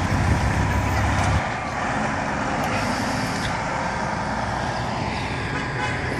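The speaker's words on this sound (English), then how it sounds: "You can almost hear the air ride adjusting itself as the diner's being moved." A heavy truck hauls the Shawmut Diner, its air ride suspension hissing and adjusting under a steady, loud broadband roar of engine and road noise that dips slightly after the first second and then holds constant.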